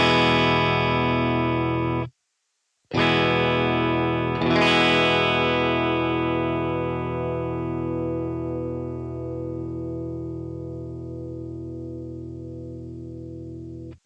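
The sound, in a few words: electric guitar through M-Vave Blackbox with compression and gate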